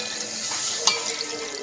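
Water poured into a pan of Bengali rohu fish curry with ridge gourd, potato and eggplant, a steady close splashing pour with one brief brighter splash partway through, no voices.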